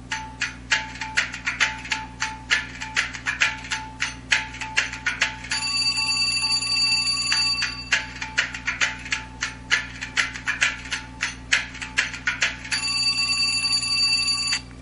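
An LG Octane VN530 phone plays its "Spark" ringtone, a bright, rapid run of bell-like tones that alternates quick plinking bursts with held ringing chords, loud and close with no one talking.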